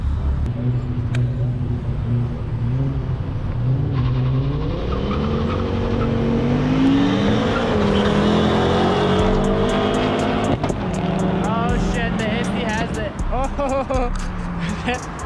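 Ford Focus ST race car accelerating hard at a racing showdown, engine note climbing and shifting through gears as it passes, loud and continuous with crowd and commentary talk over it.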